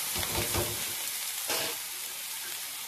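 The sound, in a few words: dry prawns with garlic, onion and chili frying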